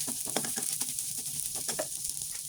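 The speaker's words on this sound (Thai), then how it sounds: "โรยแล้วก็ ผัดข้าวให้ไข่เขาสุกค่ะ" Rice and egg stir-fry in a hot pan for fried rice with grilled shrimp fat, a bright continuous sizzle broken by quick, busy scraping strokes of a spatula, close and with no speech.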